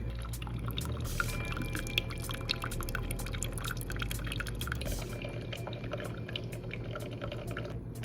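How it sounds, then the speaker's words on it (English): A coffee maker brewing coffee, giving a steady gurgle and trickle of liquid with small drips and pops over a low continuous hum, close and moderately quiet. "it's gonna start brewing the coffee"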